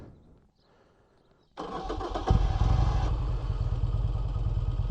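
An ARCH KRGT-1 motorcycle with a dry clutch sits quiet, then its engine cranks and fires at close range into a loud, deep, throbbing idle that runs steadily to the end, with no talk.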